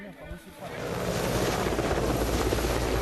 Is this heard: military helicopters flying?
yes